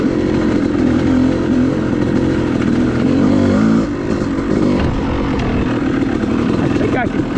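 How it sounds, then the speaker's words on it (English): A four-stroke dirt bike engine drones steadily while riding a wooded OHV trail, a continuous loud motor hum with slight shifts in pitch, heard from the rider's position throughout. "I can continue to hear his bike even when I can't see it."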